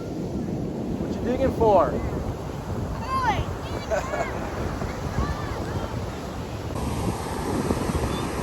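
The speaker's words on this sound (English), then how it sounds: "It's windy" Strong wind roars across a microphone at a shoreline after Hurricane Milton, with surf rumbling underneath, steady and close, while a person speaks briefly over it.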